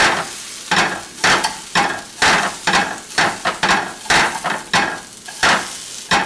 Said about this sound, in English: and then I throw in the onions, and then after the onions get kind of see-through, then I throw in the tomatoes.